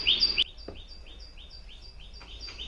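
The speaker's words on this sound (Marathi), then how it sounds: "पक्ष्यांचा किलकिलाट बघा किती सुंदर वाटतोय ना" Morning birds chirp in a quick, regular series of short high tweets a little distance away, after a brief louder call at the start, over a quiet background.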